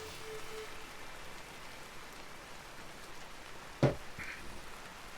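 Steady soft rainfall in the survival game Vintage Story, a fine continuous patter at low level with one brief sharp knock partway through.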